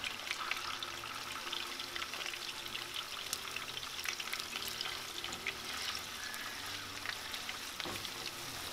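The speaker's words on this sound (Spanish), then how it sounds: "el chorizo ya se frío un poco" Chorizo frying in a pan, with a continuous close sizzle and scattered crackling pops.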